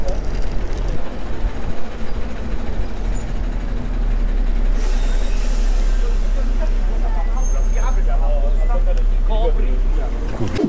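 A city bus with air brakes passes on a street, a loud steady engine rumble with a hiss of brake air midway, while someone talks over it.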